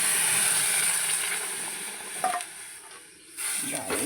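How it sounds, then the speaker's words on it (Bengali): Water poured into roasted mung dal in a hot wok gives a burst of hiss and sizzle with a brief splash midway, easing then rising again; no talk. "জল ঢেলে দেবো"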